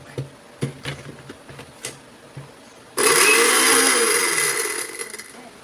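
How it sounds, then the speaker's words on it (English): A kitchen blender used for grinding flaxseed starts after several clicks and knocks, then runs as a loud, steady whirring motor for a few seconds before easing off slightly. "You can test first the blender."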